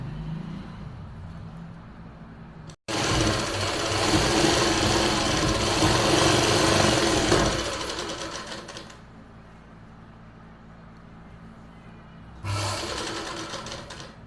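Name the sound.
sewing machine stitching a dhoti salwar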